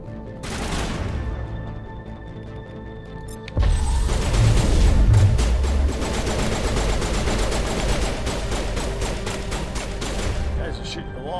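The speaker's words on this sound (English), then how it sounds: "Guys are shooting the wall." Automatic gunfire hammers a wall in a Mass Effect firefight, rapid sustained bursts of rattling shots that grow louder after a few seconds and continue densely, with faint talk beneath.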